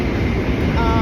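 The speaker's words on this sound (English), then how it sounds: "Hey, my train coming." A train pulling into a station, a loud continuous low rumble and roar of the rail cars close by, steady for the whole short moment with no voices over it.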